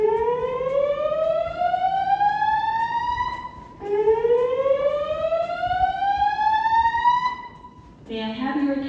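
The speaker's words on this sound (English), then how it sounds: "There has been a fire alarm reported in the building." A building fire alarm during a test, fed through classic speaker strobes, gives two long, loud rising electronic sweeps, each several seconds, before a different pulsing tone starts at the end.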